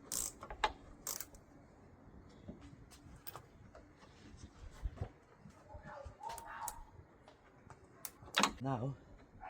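On a Ford Fiesta mk7 front top strut mount, a ratchet clicks in short irregular bursts while a nut is tightened, quiet and close, with small clanks and handling noises between the runs.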